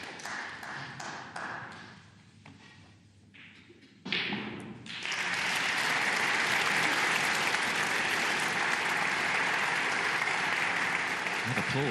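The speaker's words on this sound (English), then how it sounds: "That applause is for Hossein Vafai." Snooker audience at the UK Championship breaking into applause, rising abruptly after a few quiet ball taps and holding as a broad, even wash of clapping from a large crowd.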